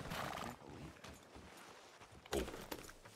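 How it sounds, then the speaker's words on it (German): A horse in the video game Red Dead Redemption 2 gives a brief whinny and shuffles its hooves, faint and uneven, with a louder burst of scuffing near the end. "Das Pferd gerade platt gefahren worden"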